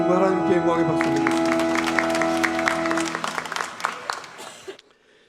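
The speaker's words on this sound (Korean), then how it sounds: "성부 하나님께 영광의 박수 드립니다." A church congregation at a Sunday service applauds in a dense, steady wave of clapping, fading out after about four seconds, while a sustained musical tone rings beneath the first half.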